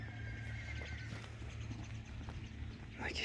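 A three-year-old stallion kept in Kerben, Aksy district, clip-clops with its hooves and neighs close by, over a steady background hum and faint murmuring voices.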